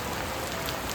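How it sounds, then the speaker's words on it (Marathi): Heavy rain pours steadily in a Konkan village, Mangeli, during the monsoon, a dense continuous hiss of drops drumming on surfaces, close and unbroken for the whole second with no voices. "बघा मंडळी, आमच्याकडे पाऊस भरपूर लागता"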